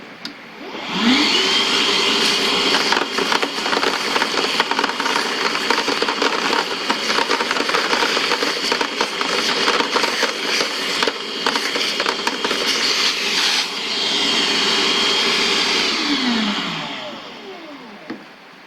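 Kobalt 3-gallon cordless wet/dry vacuum, model KWDV 0124B-03, drawing up half-inch stainless steel nylock nuts: a steady loud motor whine spins up, runs with rattling clatter of nuts through the hose, then winds down, no talking.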